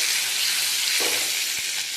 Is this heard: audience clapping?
no